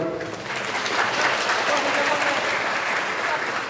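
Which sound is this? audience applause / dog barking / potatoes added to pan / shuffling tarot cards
audience applause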